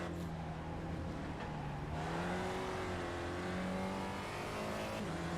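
A race car engine in the sim racing game iRacing drones steadily at high revs from the driver's seat, pitch shifting as gears change and the car accelerates, loud and continuous with no talk.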